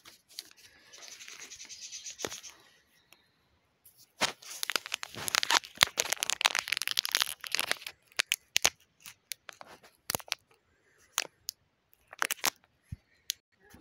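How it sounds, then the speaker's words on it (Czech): A Pokémon card booster pack wrapper is torn open by hand, giving close, crinkly tearing and rubbing with sharp snips and crackles in irregular bursts and a short pause in the middle. "jdeme otevřít další booster"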